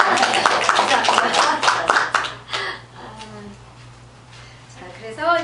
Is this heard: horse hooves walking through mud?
no